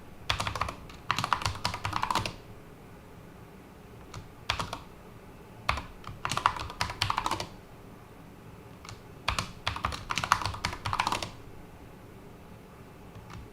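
Fingers type on a computer keyboard in bursts of rapid clicking, several runs of keystrokes separated by short pauses, close and fairly crisp with no speech.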